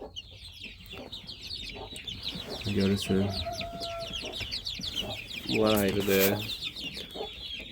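Young chickens and four roosters with a single pullet, chicks of a chocolate-colored hen, cluck on a small farm, with two louder bursts of calls rising over steady chirping while someone talks.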